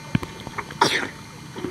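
A single abrupt sneeze bursts out near the middle, loud and close, after a few faint soft sounds and clicks.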